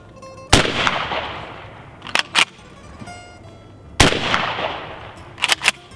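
A shotgun fires a reloaded Winchester AA shell, two loud sharp blasts about three and a half seconds apart, each ringing out with a long echoing tail, with quick clacks of the action between them.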